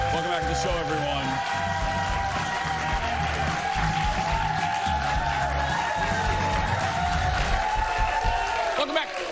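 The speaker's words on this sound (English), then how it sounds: "Keep clapping because it's time for the hot dish" A studio audience on a daytime talk show claps and cheers steadily throughout, with a voice talking over the crowd noise.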